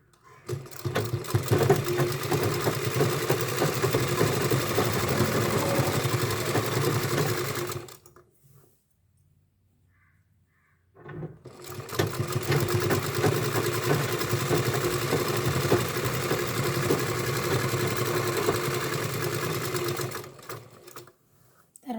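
A sewing machine stitches a frock in a steady, fast mechanical whir. It runs for about eight seconds, stops for a short near-silent pause, then runs again at the same even pace.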